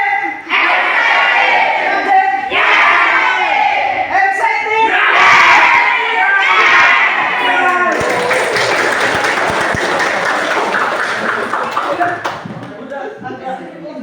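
A school class chanting the Tepuk Indonesia clapping routine, loud children's voices shouting in rhythmic bursts, then a long stretch of dense clapping and cheering that rings out before tapering off.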